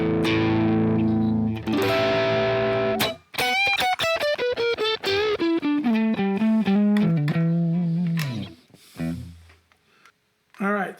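Electric guitar through a plexi-style amp with gain and volume at full and no effects, driven chords then a descending run of distorted single notes, loud with abrupt stops and short gaps near the end.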